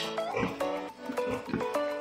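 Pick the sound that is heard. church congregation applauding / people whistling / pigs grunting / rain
pigs grunting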